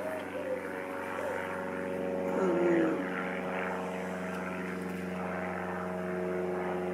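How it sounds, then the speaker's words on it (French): A small, slow light propeller tourist plane drones overhead near a Grenoble-area airfield, a steady engine hum swelling slightly mid-clip and persisting throughout with no talk. "Il va pas vite. C'est un avion de tourisme."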